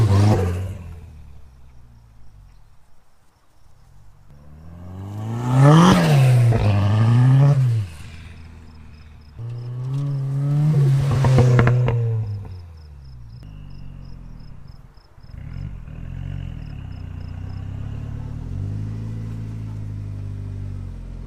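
Turbocharged Toyota MR2 AW11 heard from outside, revving in two loud swelling bursts with falling pitch between them, then settling into a steady idle; faint chirping sits in the background.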